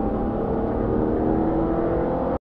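A 2020 Subaru Legacy with the 2.4-litre turbo flat-four accelerates in a smooth, building engine drone heard up close and alone, cutting off abruptly at the end.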